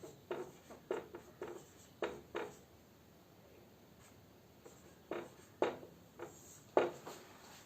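Handwriting a definition, heard as close, scratchy strokes in irregular bursts separated by short pauses, loud against a quiet background with no voices.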